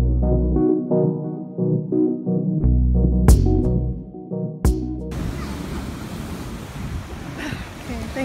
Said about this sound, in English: Cause the waves are really big and it like crashes.